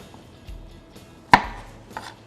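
A knife chops cauliflower on a cutting board, cutting from the stem toward the florets for a pork rib curry: a few sparse, soft taps, then one sharp, close cut and a lighter one after it.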